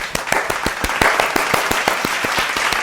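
Steady applause from a small group of hands, with sharp, evenly spaced claps close by that carry on for a few seconds without any voices.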